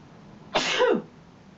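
A single short cough from a man during a baritone voice warm-up lesson, close and fairly quiet, with silence before and after.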